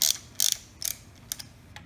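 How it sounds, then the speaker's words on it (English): Ratchet clicks in short bursts as the six variator bolts are tightened on a Lamborghini Murcielago engine during a cam timing adjustment, four or five quick clicking runs, close and crisp, with no talk. "So now you tighten up your 6 variator bolts."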